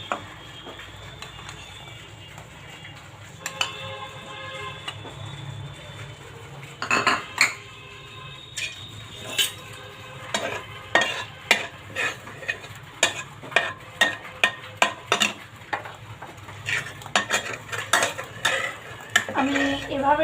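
Ginger-garlic paste frying in oil in a pan for a chickpea dish, with a spoon scraping and clinking against the metal in a quick run of sharp knocks. A low steady sizzle sits underneath, and no one talks.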